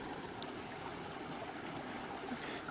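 Water from a backcountry stream below beaver dams runs steadily into a bottle, a continuous close trickling and rushing wash with no pauses.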